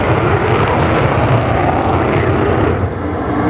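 An Avro Vulcan bomber flies at an air display at RAF Waddington, its jet engines giving a loud, sustained, broadband roar that stays powerful throughout with no voices.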